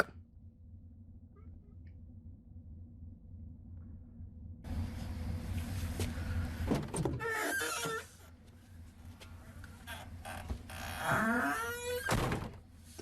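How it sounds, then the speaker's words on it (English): Squeaky car door in a Breaking Bad scene: after a quiet start and a rise in ambience, two loud creaking squeals, each ending in a solid thunk as the door shuts, with no talking. "That squeaky car door just makes it just worse."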